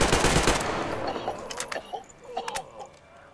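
Burst of automatic gunfire in the video game Metro Exodus, a rapid dense rattle up close that fades into a few scattered clicks and clinks with no talking.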